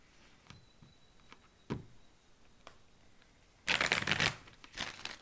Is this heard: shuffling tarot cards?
yes